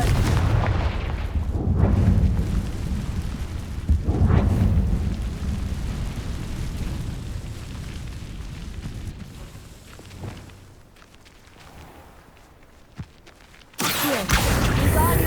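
Spell explosions from the Hogwarts Legacy video game boom out in several heavy blasts with rumbling tails, over game ambience, followed by a quieter stretch and a final sharp burst.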